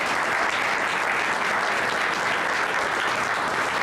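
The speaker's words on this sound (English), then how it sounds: "Let's give the students a round of applause" An audience at a gubernatorial candidate forum gives the students a round of applause, a dense, even wash of clapping from a large crowd, steady from start to finish.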